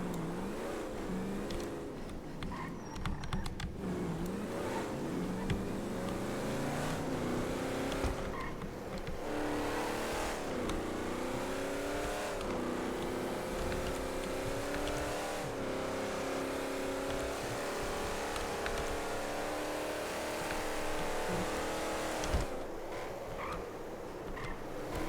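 A car driving in a GTA role-play game, its engine revving steadily with rising and falling pitch through gear changes for about twenty-five seconds, loud and continuous with a brief tire squeal.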